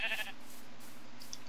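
Sheep bleating in a Minecraft-style survival game, a short bleat at the start followed by quiet game ambience with a few faint high blips.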